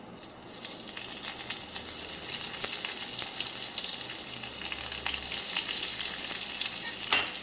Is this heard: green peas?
yes